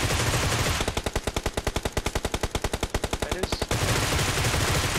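Automatic gunfire in the PUBG Mobile battle royale game, a steady rapid burst of about thirty evenly spaced shots lasting around three seconds, loud and close over continuous game background noise.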